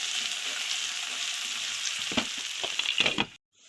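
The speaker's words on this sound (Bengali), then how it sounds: "পেঁয়াজ আর মটরছিমি একটু ভেজে নিলাম" Onion and flat beans fry in a pan with a steady, close sizzle. A few clinks of stirring come near the end, then the sound cuts to silence.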